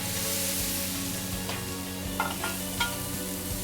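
Chili and onions fry in hot oil at a Kelantan street food stall, giving a steady, close sizzle with a few faint scraping stirs and light clicks over a low background hum.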